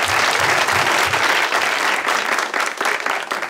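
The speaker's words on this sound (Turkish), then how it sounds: "Bir alkış." Studio audience bursts into sustained applause at a Turkish talk show taping, a dense, steady wash of many hands clapping at full volume for a few seconds with no voices on top.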